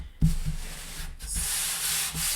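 A chalk transfer stencil is smoothed flat by hand onto a surface, producing soft, brushing rub strokes in short sweeps, close and fairly quiet.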